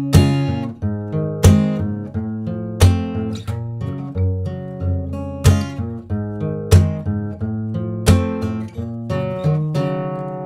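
Acoustic guitar strummed in a steady chord progression, each strum ringing clearly before the next, played alone at moderate volume.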